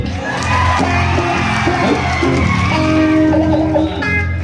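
A crowd at a Bihu stage show roars with loud yells, whoops and cheering, dense and close throughout.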